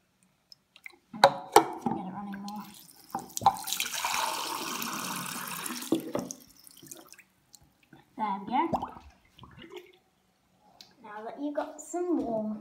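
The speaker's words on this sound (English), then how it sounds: "Fill up any single glass with water." Water from a tap pours into a glass for a few seconds in the middle, a hissing splashing stream between stretches of a person talking nearby.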